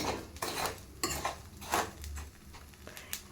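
Corn kernels roasting dry in salt in a pan, giving a run of close scraping and stirring sounds with gritty rattles and light clinks at a steady, uneven pace.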